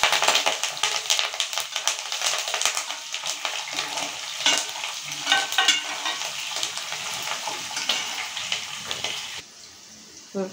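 Dried red chilies and curry leaves frying in hot oil in a pan, a loud, crackling sizzle with rapid pops and stirring that runs steadily, then drops away abruptly near the end.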